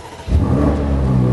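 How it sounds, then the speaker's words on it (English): A 2021 BMW M8 Competition coupe in Sport Plus with the exhaust open gives a single loud, close rev that rises suddenly from quiet and holds as a deep, rumbling roar. "when you go into Sport Plus, one important thing, the exhaust opens"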